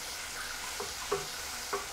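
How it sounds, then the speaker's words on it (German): Tomato paste is stirred into mushrooms, garlic and onion frying in a pan, a soft steady sizzle with a few light scraping stirs. "Tomatenmark oben drauf und einrühren."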